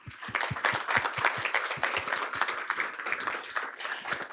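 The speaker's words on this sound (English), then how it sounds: "perhaps we can give our amazing school board a recognition and a round of applause" An audience at a school board of education meeting gives a round of applause: a dense burst of many hands clapping steadily for about four seconds, close and lively.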